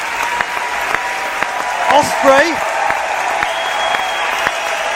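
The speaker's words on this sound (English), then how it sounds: "The fans applaud." Wrestling fans at a RevPro High Stakes 2016 show in the Cockpit Theatre applaud steadily, a dense wash of clapping that runs the full length, while a commentator's voice rises briefly over it partway through.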